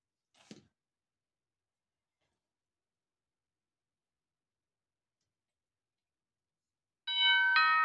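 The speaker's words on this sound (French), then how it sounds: "j'ai oublié d'enlever le son de mon téléphone" A mobile phone plays a bright, tonal notification chime that rings out clearly at the end, after a faint early click and several seconds of near silence.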